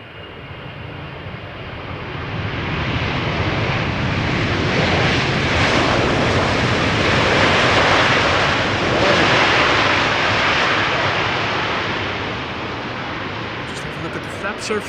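A KLM Boeing 777-300 landing on the Polderbaan runway at Schiphol, a loud, broad jet roar that swells over several seconds, holds, then slowly fades away, with voices faintly underneath.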